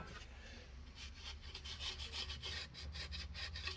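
Scotch-Brite pad rubbed over a Mazda CX-9 engine surface wet with brake cleaner, a steady close scrubbing rasp with rhythmic back-and-forth strokes and no talking.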